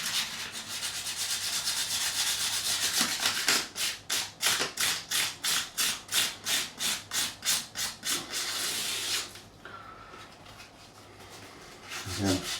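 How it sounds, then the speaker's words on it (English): Sandpaper rubbed along the edges of guitar frets on a 1986 Hamer Chaparral during a refret, a steady scratchy rasp that turns into about a dozen rhythmic back-and-forth strokes, close and loud, then stops. "just the edges of the fret, just to rough them up a little bit"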